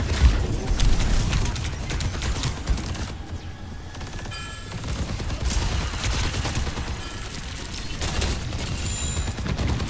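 Sustained bursts of Overwatch gunfire, dense and loud machine-gun-style shooting with occasional booms, running steadily without speech.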